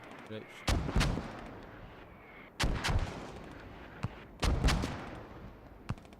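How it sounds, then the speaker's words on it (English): Mortar fire in a military video game battle: several heavy booming blasts come in spaced pairs with rolling tails, plus sharper distant cracks, and voices are faintly audible between them. "Those mortars though are pretty much on point."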